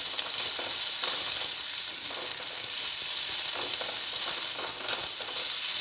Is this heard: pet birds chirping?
no